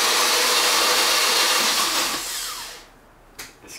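Car engine turning over on its starter with no ECU fitted, a steady broadband whir that holds for nearly three seconds, fades out, then returns as two brief bursts.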